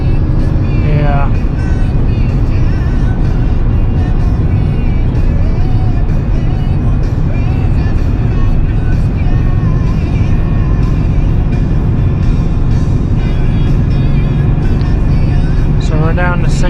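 A 24-year-old 8.1-litre gas V8 truck pulls hard in 4th gear while towing a heavy trailer, a loud, constant low engine drone and road roar heard from inside the cab, with someone talking over it.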